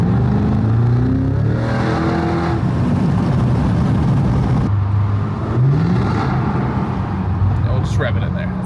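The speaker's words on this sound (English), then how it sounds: "we'll just rev it in there. That sounds nice." A powerful V8 engine in a Cadillac CT5-V Blackwing revs up and down several times in a tunnel, its rising and falling roar echoing loudly.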